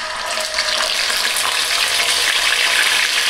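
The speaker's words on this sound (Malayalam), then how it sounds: "നെയ്യ് ചൂടായിട്ടുണ്ട് നമുക്ക് ചിക്കൻ പീസുകളൊക്കെ ഇതിലേക്ക് ചേർത്ത് കൊടുക്കാം" Marinated chicken pieces dropped into hot ghee for a Chettinad chicken ghee roast: a loud, dense, continuous hissing sizzle, close up and steady throughout, with no talking.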